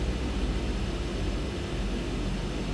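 A DHC-6 Twin Otter's engines roar steadily during a circuit around the field, a dense broadband drone heard from inside the aircraft with no gaps or talk.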